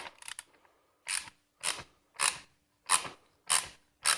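A 1/2 inch socket wrench turns a nut on the wheel shaft of a 2011 City Elite baby jogger, giving six or so close, quiet ratcheting clicks in an even rhythm, each a short burst separated by silence.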